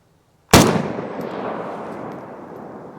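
A single sharp gunshot from a Zastava 10-inch barrel firing Frag Master rounds cracks loudly after a moment of silence, then rolls off into a long echoing outdoor decay.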